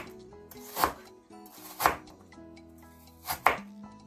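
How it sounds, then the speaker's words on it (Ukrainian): A knife chops carrots on a board with three separated thuds, a quiet kitchen hum and faint clinks in between. "тепер так само нарізаємо моркву"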